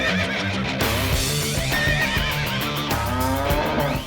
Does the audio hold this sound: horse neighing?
yes